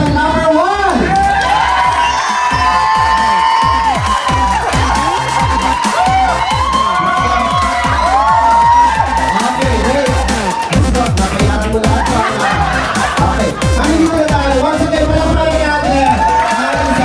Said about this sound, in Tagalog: Sa pamamagitan po ng kanilang palakpakan na may kasamang hiyawan